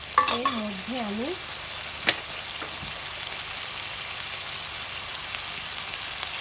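Spice masala with salt is sautéed in a pan for fish balls, a soft steady sizzle close by with a few faint scrapes of a spatula, opened by a brief sliding tonal squeak.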